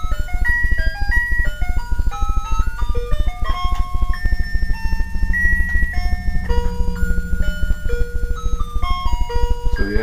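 An unmodified VTech Little Smart First Words Plus electronic toy plays a bright, loud beeping melody of stepped synthesized tones with a steady pulsing rhythm, alone and without talk.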